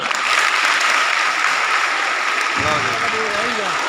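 An audience at a girls' senior secondary school event in Maur Mandi, Bathinda applauds loudly and steadily throughout, with a voice speaking over the clapping near the end.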